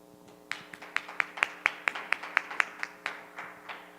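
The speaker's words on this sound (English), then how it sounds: "let's give a round of applause to Matthias." At a technical conference session, a small audience gives a brief round of applause for a speaker, a dozen or so distinct, rhythmic claps rising and then fading out.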